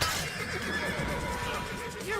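A horse in the Assassin's Creed video game lets out a whinny amid game noise and hoofbeats, with a person talking over it.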